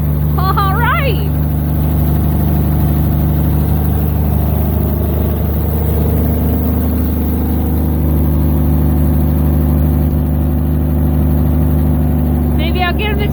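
Ford F600 truck engine idling steadily after a cold start, a loud continuous low rumble with a constant hum and faint higher whines near the start and end.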